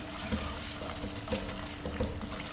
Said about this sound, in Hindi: ठीक है, अब इसको हमने अच्छे से भून देना।